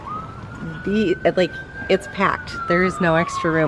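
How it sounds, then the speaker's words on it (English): An emergency vehicle siren wails steadily in the background behind a moving car, slowly rising and falling, while a person talks close by over it. "Sorry about the sirens behind us."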